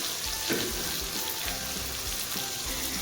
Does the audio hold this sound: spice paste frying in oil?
yes